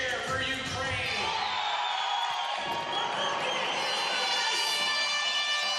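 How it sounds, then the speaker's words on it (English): A crowd cheers and roars steadily for a pentathlete leaving the shooting range at the UIPM Pentathlon World Championships men's semi-final, with a commentator talking over the continuous noise. "Big cheer for Peronas as he leaves the range for the 2nd time"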